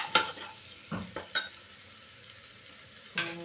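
Ginger and garlic sautéing in a pan over high heat for mutton curry: a soft steady sizzle with a few scraping stirs of a spoon against the pan, close up and without talking.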